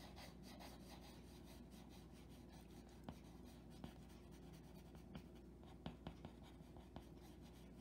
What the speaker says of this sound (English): And I just pull on the pencil.